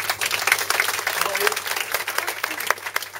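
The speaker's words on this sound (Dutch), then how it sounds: "En natuurlijk applaus voor mijn broer Gijs." An audience at a Dutch book presentation applauds, giving scattered, uneven claps with distinct individual hits over a low hum, while voices talk through the clapping.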